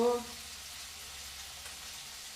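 Ground turmeric, chili, coriander and cumin sizzle softly in a hot pan with oil, a steady low fry after a brief clatter at the start, fairly quiet and continuous.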